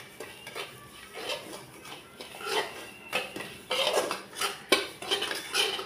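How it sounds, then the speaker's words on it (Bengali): A metal spoon stirs semolina halwa with ghee in a pan, making close, irregular scraping and clinking that comes in uneven bursts and grows busier toward the end, with no talking. "দিয়ে এবার আমি ভালো করে এটাকে আবার নাড়ব।"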